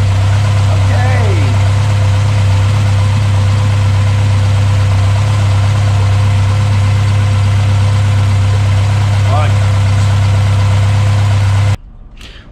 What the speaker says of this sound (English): running Mk1 Escort. It's got to sit there with a sensible idle.